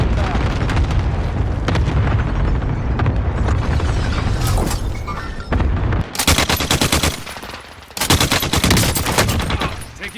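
Gunfire in a Warzone payload match: loud, dense bursts of automatic weapon fire and booming shots, with rapid rattling volleys in the second half broken by short pauses.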